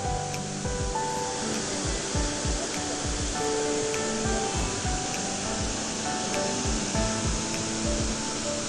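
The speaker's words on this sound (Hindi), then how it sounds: "जी व्यूवर्स, ये है मंटोका वाटरफॉल, वो टॉप से आ रही है।" Mantoka waterfall near Skardu pours from the top in a constant dense rush of falling water, loud and steady, with faint rhythmic thumps and tonal hum mixed underneath.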